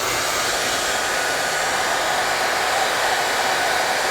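A Siyoo hair dryer runs on its minimum setting, giving a steady, close, even airy whoosh with a low motor hum that holds unchanged from start to finish.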